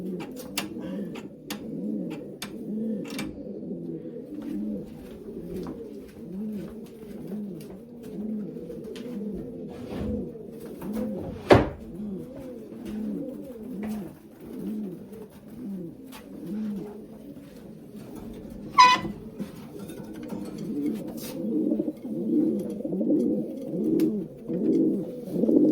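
Racing pigeons in a loft coo steadily and continuously in overlapping low, rolling calls, with a couple of sharp knocks partway through.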